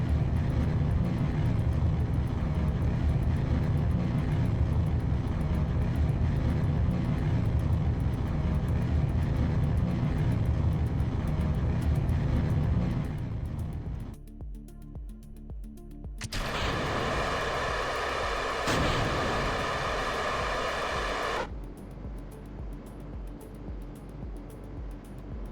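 A throttled rocket engine roars in Kerbal Space Program during ascent, a loud continuous rumble that drops and thins briefly before surging back brighter and then settling again.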